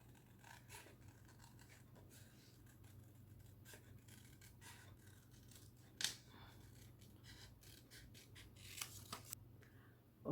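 Scissors snip steadily through paper while a scrapbook whale tail is cut along a straight line, a quiet continuous rasping with a few sharper snips near the end over a low background hum.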